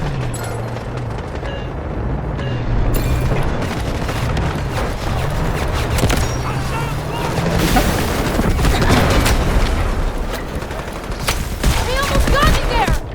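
Gunfire in the shooter game Delta Force comes as rapid automatic bursts and booming impacts, loud and close, with a voice talking over the action and a tonal engine-like hum underneath.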